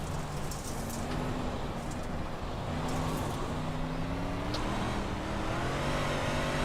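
Dirt race car engines in a racing video game drone steadily, a constant close engine roar with rising and falling revs as other cars run nearby on the track.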